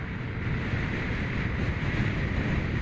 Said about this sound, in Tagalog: Siguro kung naririnig nyo sa mic yung lakas ng hangin